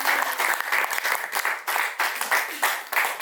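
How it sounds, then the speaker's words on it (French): A wedding congregation at a customary ceremony claps in rhythmic, pulsing bursts, a dense close round of applause that rises and falls steadily without pause. "Nous acclamons le Seigneur."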